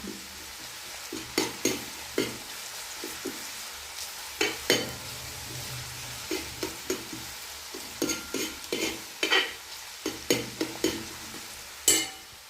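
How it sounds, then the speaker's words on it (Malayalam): Garlic and ginger sauté in hot oil for a chicken curry as sliced onions are pushed in and stirred, giving a steady sizzle punctuated by repeated scraping, clattering spoon strokes against the pan, with no talking. "വെളുത്തുള്ളി ഇഞ്ചി ഇട്ട് ശകലം ഒന്ന് വഴന്ന് വന്നിട്ട് നമുക്ക് സവാള ഇങ്ങോട്ട് നീക്കിയിടാം"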